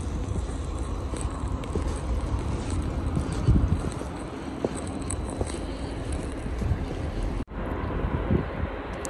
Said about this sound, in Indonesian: Terus berangin, bikin makin dingin.